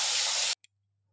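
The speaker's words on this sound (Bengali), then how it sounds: "এবার মুড়োগুলো ভাজা হয়ে যাচ্ছে।" Rohu fish heads fry in hot oil with a loud, dense sizzle that cuts off abruptly after half a second, followed by a single faint tick and near silence.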